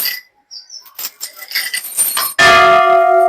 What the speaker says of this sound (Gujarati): અહીંયા એક મોટો ઘંટો છે